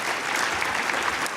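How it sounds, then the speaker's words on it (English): A brief burst of steady audience applause at a university campus conversation event, dense and even throughout with no speech over it. "Please, let's give a round of applause to them."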